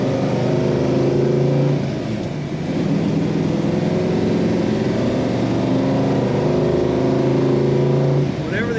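A 1971 Dodge Charger with a 383 Magnum engine rumbles throatily and steadily up close while driving, with a dip in the middle before the revs climb again near the end.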